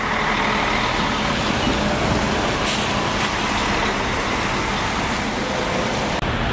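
Heavy oil-carrying trucks roll past on the Baku-Qazakh highway on a drizzly, foggy, icy road, with a loud continuous engine and tyre roar, a high brake whine and a faint hiss of air brakes.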